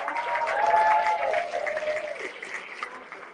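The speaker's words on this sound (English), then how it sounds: "Please give these models a round of applause." A crowd claps steadily, the applause peaking early then gradually thinning out, with a faint tonal whistle underneath.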